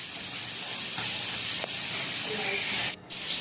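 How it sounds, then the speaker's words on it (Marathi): Semolina-coated pomfret fish fry on a hot griddle, giving a loud, continuous sizzling hiss broken by a brief dip near the end. "इथे सर्व पापलेट मी तव्यावर फ्राय करायला ठेवले"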